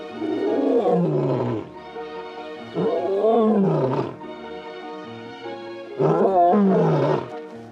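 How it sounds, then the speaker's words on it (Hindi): A young lion roars in three long, loud, deep bouts with quiet gaps between them, each call rising and then trailing off in groans, close and alone with no talk. "किशोर शेर शायद ही कभी दहाड़ते हैं"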